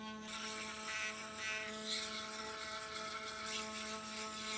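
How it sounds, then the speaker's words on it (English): A NeoSander reciprocating detail sander runs with its variable speed control pushed up, giving a steady, close buzzing motor whine with a rough, rasping edge. "the further you push it up, the faster the reciprocating tool actually works."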